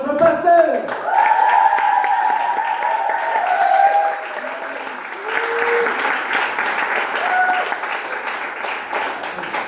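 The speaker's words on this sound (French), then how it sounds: "Un tonnerre d'applaudissements pour notre pasteur." A church audience applauds for the pastor at an art and testimony event in Fréjus, sustained clapping with cheering voices and a sustained tonal sound over it, fading slightly midway.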